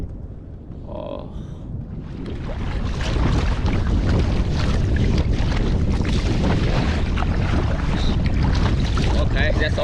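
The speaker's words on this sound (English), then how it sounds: "now it's heavy wind" Heavy wind buffets a kayak out at sea, a loud continuous roar of gusts and microphone rumble with water noise that builds after the first couple of seconds and stays strong.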